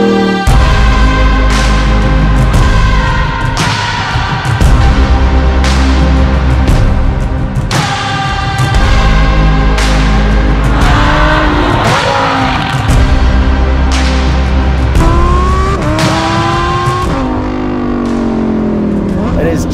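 A Lamborghini Huracan STO with a Novitec exhaust revs hard to 8,000 RPM, repeated sharp rising blips and screams between short drops, loud and close, with someone talking over it.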